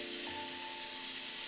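Shrimp frying in a pan on low heat, a steady close sizzle with a faint hum beneath and no one speaking.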